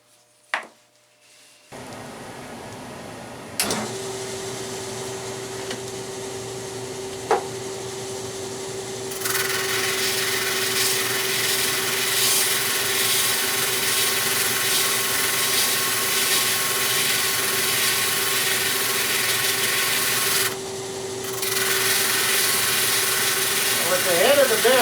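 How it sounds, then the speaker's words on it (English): Power sander running on an intarsia wooden bear piece, starting with a click and a loud steady whine, then a harsher broadband roar of abrasive on wood that briefly drops out and resumes, with a few knocks. "Now we can sand it."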